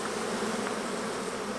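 Honeybees at an open hive during beekeeping, a dense, continuous buzz from many bees close by, steady and fairly loud with no voices.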